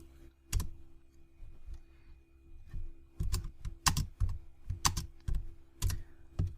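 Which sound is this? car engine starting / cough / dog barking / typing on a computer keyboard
typing on a computer keyboard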